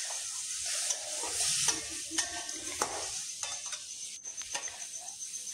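Paneer frying in a pan, with a quiet sizzle under intermittent stirring and scraping scrapes and light clicks of a utensil against the pan, close by and without talk.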